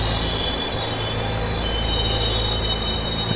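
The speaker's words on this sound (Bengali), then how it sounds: "দেখতে দেখতে পলাশপুর ছাড়িয়ে এসে আমাদের ট্রেন দাঁড়ালো" A train brakes to a halt at a station, its wheels squealing loudly and steadily against the rails. The hard metallic screech carries on without a break, with no voices over it.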